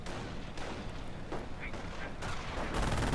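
A sniper rifle shot rings out in a World War II strategy game battle, a sharp report amid scattered distant gunfire and booms over a steady battle ambience.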